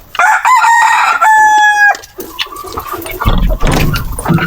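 A native chicken rooster crows loudly and close by in two long calls, followed by a few softer clucks and rustling.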